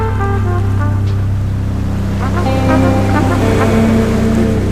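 Ocean waves wash onto a beach at sunset, where children swim and play in the surf: a loud, steady roar of surf with rolling swells and no voices heard.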